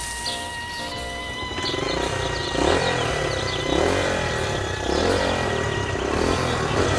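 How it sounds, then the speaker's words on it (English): A small engine revs up repeatedly in rising bursts, growling louder with each push, nearby and alone without any talking. "Small vehicle engines"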